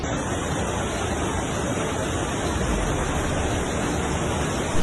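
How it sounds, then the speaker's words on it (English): Floodwater rushing through São Paulo streets and subway stations, a loud, continuous roar of churning water with no pauses or voices. "the subway stations overwhelmed by over 2 feet of rushing water"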